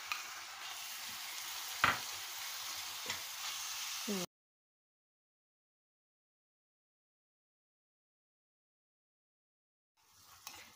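Minced meat, about 200 grams and just out of the freezer, fries in a pan for a béchamel lasagna börek, giving a steady close sizzle with a few stirring clicks for about four seconds before the sound cuts to silence, then faint noise returns near the end.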